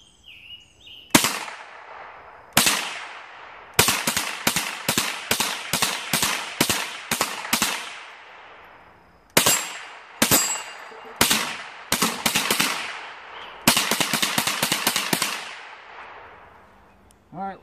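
.22 long rifle shots fired in a sequence of sharp cracks, single shots at first and then rapid evenly spaced strings, loud and close with short echoing decay and quiet gaps between volleys.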